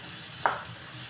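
Ground red chilli spice hits hot oil in a pan, a single short sizzle-and-stir burst over a quiet background hiss.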